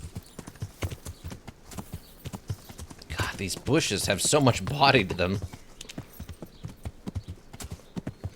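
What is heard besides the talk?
horse hooves clip-clopping while riding, Kingdom Come: Deliverance video game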